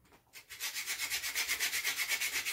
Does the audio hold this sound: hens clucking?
no